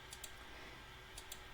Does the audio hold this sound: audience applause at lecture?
no